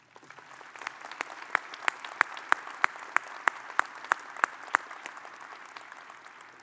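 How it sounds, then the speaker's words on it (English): Graduates and guests at a university fall commencement ceremony applaud the faculty in a large hall; broad, moderately distant clapping carries a steady, evenly spaced sequence of sharper individual claps riding over the crowd. "Graduates, please join me in a round of applause and recognition of our faculty."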